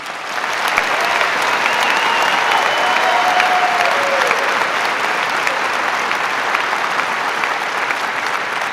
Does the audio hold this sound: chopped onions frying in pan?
no